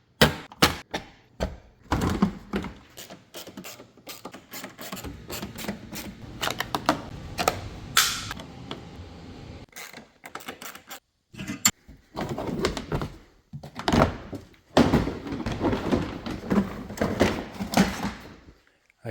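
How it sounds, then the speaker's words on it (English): Front end ripped off a Smart car, sharp plastic cracks, thunks and snapping pops in uneven bursts, some loud and close, with short quiet gaps between efforts. "So I'm just going to rip the whole front end off"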